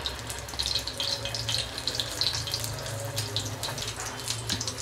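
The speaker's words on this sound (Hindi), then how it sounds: "मेरा तेल हो गया है यहाँ पे गरम, तो मैं एक शामी यहाँ पे डालती हूँ" A shami kabab slid into hot oil sizzles steadily, a continuous close hiss and bubbling that swells slightly at moments, with no voice over it.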